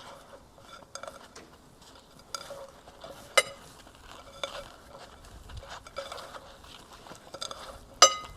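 Salted mushrooms being stirred for Armenian-style shashlik in a home kitchen, with scattered clinks and scrapes of a utensil against a bowl and soft patter between, one sharper clank near the end, no talk.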